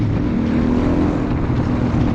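A Suzuki DRZ 400SM supermoto's single-cylinder engine drones steadily while riding, a loud, even buzz mixed with wind rush against the microphone.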